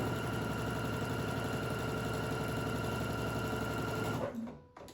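A sewing machine runs steadily, stitching quilt rows together with a fast, even mechanical whir. It is close and continuous, then stops abruptly near the end.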